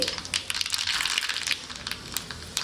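Mustard seeds crackle and spit in hot oil for tempering, a dense close hiss of rapid pops continuing steadily without talk.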